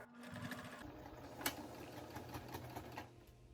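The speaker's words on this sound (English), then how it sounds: "you're just going to do both sides and you're going to sew downward" Sewing machine stitches down the sides of a fabric face mask, a quiet, steady mechanical rattle that runs continuously and close by.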